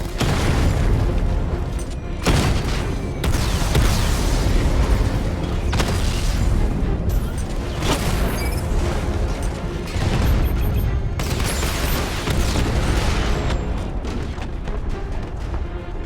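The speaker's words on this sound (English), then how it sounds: "Your 60mm cannon will penetrate these heavily armored units, but it'll take a few direct hits to destroy them." Tank cannon fire and heavy explosions in Batman: Arkham Knight, a dense run of loud booms and blasts repeating every few seconds over a constant rumbling backdrop.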